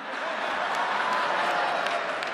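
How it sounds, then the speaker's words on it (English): A comedy-show audience claps and cheers in a steady wash of applause that holds for the whole moment, with some crowd voices mixed in. "Yeah, applaud yourselves."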